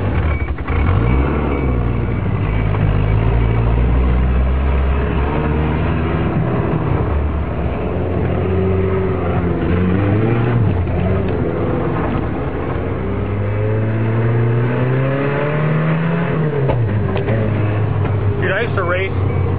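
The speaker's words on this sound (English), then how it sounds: "It's backfiring because it's got exhaust issues, but it's not making any noises, it's not knocking" An Isuzu Trooper engine with exhaust problems rumbles and revs up and down over several seconds, backfiring, loud and close, with people talking over it.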